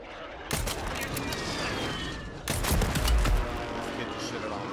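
Gunfire crackles in a Call of Duty Warzone match: a dense rattle of shots that starts abruptly, drops off briefly, then surges again with a deep boom, loud and continuous throughout.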